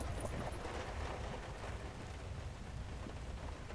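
Steady rain pours down in the Lego Star Wars The Force Awakens video game, a constant hiss of drops with a low rumble underneath, fairly quiet and alone without talk.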